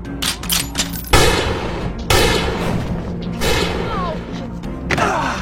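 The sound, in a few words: gunshots in a film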